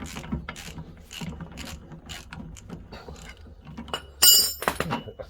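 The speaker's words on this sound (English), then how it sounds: "Now we've got that off, we can use the ratchet." A hand ratchet works loose the tow bar bolts on a van, a close run of mechanical clicking and rattling over background noise, with a sharper metallic burst near the end.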